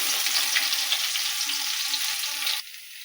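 Mustard seeds and garlic fry in hot oil in a pan, giving a dense, even sizzle with faint popping that drops to a quieter hiss near the end.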